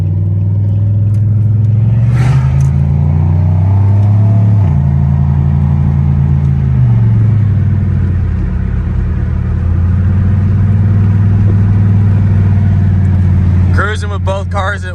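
A Ghia and a BMW E46 cruise together on the road, steady engine rumble with a shift in pitch, loud and close, with a brief burst of other noise near the end.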